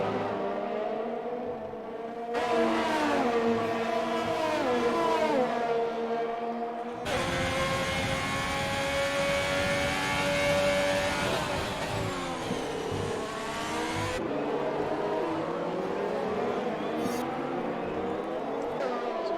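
Formula 1 cars at the Marina Bay Street Circuit in Singapore in a PC racing game, engines whining and shifting pitch as they rev and pass at close range, continuous and loud, with a commentator talking over them.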